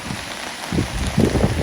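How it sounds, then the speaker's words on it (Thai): Rain falling steadily on surfaces around a house during an all-day downpour, a continuous close patter with heavier drumming bursts, no talk. "ฝนตกอีกแล้ว"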